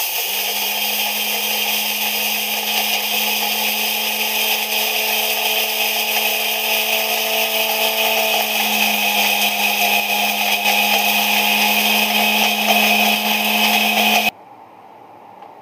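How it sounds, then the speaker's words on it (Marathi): A kitchen mixer grinder grinds roasted ingredients into powder, a loud, steady whining motor drone with a rattling jar, running continuously for about fourteen seconds and then stopping abruptly. "आता याला आपण मिक्सरमध्ये त्याची पावडर करूया."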